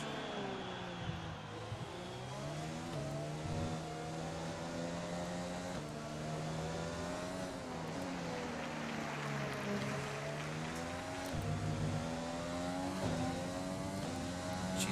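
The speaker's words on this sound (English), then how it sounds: "I do think I'm over revving this engine a little bit at times." Formula 1 car engine in the F1 2020 racing game at the Vietnam Grand Prix, revving hard and continuously with rising and falling pitch as it shifts through gears, loud and steady for the whole stretch.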